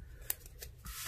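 Scissors cut paper for a handmade autograph memory book. Close, quiet snips sound as a sharp click followed by a couple of softer crisp cuts within about a second, with no one talking.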